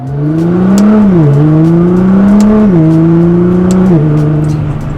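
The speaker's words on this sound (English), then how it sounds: "So driving now in the GT-R" A Nissan GT-R Black Edition drives with a loud, steady engine drone that rises through gears, dipping briefly at each of a few shifts, heard close and alone without talk.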